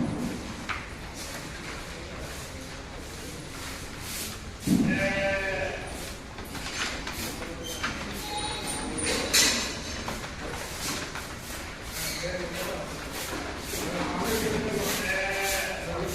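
Sheep and goats of mixed breeds bleat at a farm near Bangalore, several loud calls from near and farther animals overlapping, with voices talking in the background.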